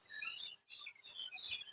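Caged pet birds in a breeding cage chirp and tweet in quick, bright bursts, fairly close but soft, with a short pause between two flurries of calls.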